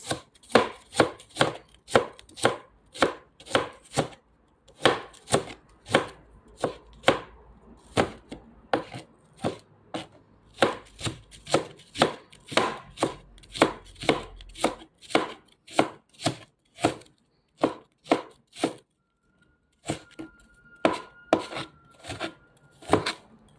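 Onions chopped for a bagoong dish: a fast, even series of sharp knife thwacks on a cutting board, close and crisp, with a short pause partway and a brief break near the end, no voices.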